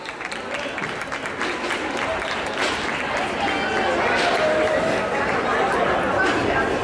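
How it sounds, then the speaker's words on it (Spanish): Crowd applause at an outdoor Andalusian fair concert in Leganés, a steady dense wash of clapping mixed with crowd chatter and voices, sustained and fairly loud throughout. "¡Un fuerte aplauso!"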